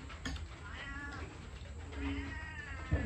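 A cat meows in a few drawn-out, wavering cries over a steady background hum, fairly close and moderately loud, with no talk.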